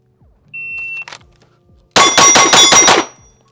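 An Archon Type B pistol fires factory Max Tech ammo in a fast string of about six sharp gunshots, each crack loud and close, preceded by a beep from a shot timer and a faint earlier sound.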